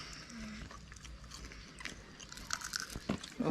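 Crispy fried mushrooms are bitten and chewed close up, with soft crunches and mouth sounds that grow louder toward the end.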